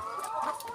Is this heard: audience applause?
no